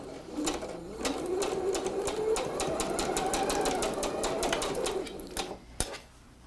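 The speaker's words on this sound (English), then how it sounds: "Let's go to the sewing machine with this." Domestic sewing machine stitching a quilted snowflake table runner, a steady mechanical whir with rapid regular needle ticks running for several seconds, close and fairly loud, slowing and stopping near the end.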